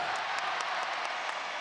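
Crowd at a basketball game in Melbourne between the Boomers and the Tall Blacks, a dense wash of cheering and applause filling the arena, continuous and loud with no pauses.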